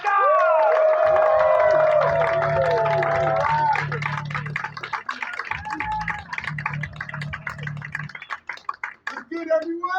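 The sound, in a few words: crowd applause and cheering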